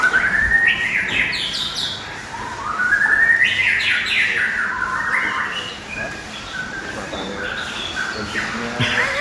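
A murai bird sings loud, close, rapid whistled phrases with sweeping rising notes and chirps, delivered in repeated bursts while people murmur faintly in the background.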